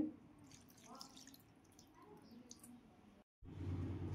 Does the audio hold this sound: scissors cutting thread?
no